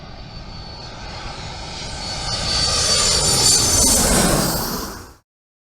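Private jet aircraft engine running loud and steady, a broadband roar with a high whine that swells over several seconds before cutting off abruptly; no voices.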